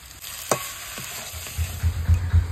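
A vegetable and fried fish chorchori being stirred in a pan, a soft sizzle under a few scraping strokes and low thumping stirs, close up and brief, with no talking.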